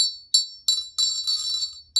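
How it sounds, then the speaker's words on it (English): A bell struck several times in quick succession, bright and ringing with short decays, each strike close and clear against a quiet room with no talking. "the bell"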